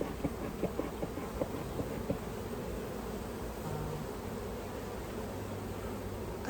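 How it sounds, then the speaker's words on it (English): A steady, low drone of many bees buzzing together, continuous and fairly close, with individual insects occasionally rising above the hum. "That's a male bee."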